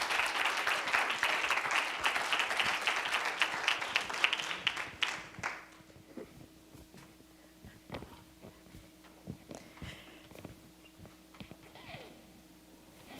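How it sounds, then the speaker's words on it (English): A room full of people applauding at a city council meeting, dense clapping for about five seconds before it thins out to a few scattered claps and fades. "let's give her a round of applause."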